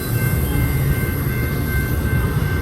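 A freight train in a canyon rail yard begins to move with a loud, close, steady rumble of railcars and a thin high squeal running throughout.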